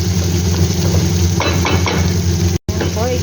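Onions sautéing in a hot pan, a steady sizzle with a spoon scraping and stirring in bursts and a few light clinks of utensil on metal, loud and close.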